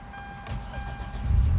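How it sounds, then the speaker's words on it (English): A car engine cranks and catches after a push-button start with the clutch pedal held down, a low rumble building and settling into a steady idle close by. "and the car starts."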